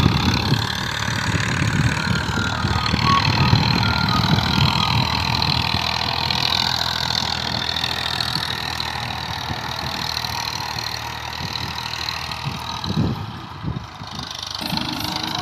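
Massey Ferguson 1035 DI 35 hp tractor pulling a ten-tine cultivator in second gear, its engine a steady loaded drone that holds at constant volume throughout, a little lighter toward the end.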